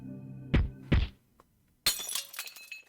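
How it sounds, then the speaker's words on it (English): Glass shattering in the visual novel game Chaos;Child: two heavy thuds come first, then a pause and a bright, crashing burst of breaking glass with scattered tinkling fragments trailing off. "I heard the sound of shattering glass and the impact stopped."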